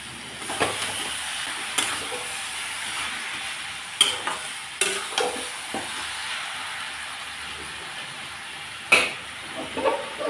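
Fried hilsa fish head cooking in a pan, with a steady background sizzle broken by repeated scraping stirs and clinks at irregular intervals, close and moderately loud, no talking.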